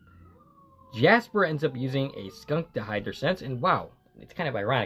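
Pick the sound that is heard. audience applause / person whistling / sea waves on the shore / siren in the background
siren in the background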